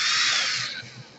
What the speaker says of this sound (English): I need to screw in 2 screws